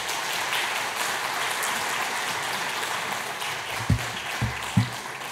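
A church congregation at a Sunday service applauds to welcome a pastor, a steady wash of many hands clapping that holds evenly, with a few low thumps near the end.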